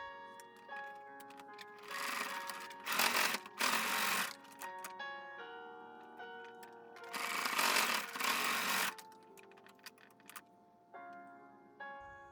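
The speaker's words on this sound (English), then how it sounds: "so we are good to go to sew on the sides" Sewing machine stitches the sides of a pleated fabric face mask in two fast whirring bursts, with quieter mechanical ticks and clicks before, between and after, close up and with no talking.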